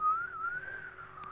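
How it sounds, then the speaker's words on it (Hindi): A person whistles a steady, high tune in one continuous run with a brief break, alone and fairly close, with no talking over it. "मैं सीटी बजा रहा हूँ"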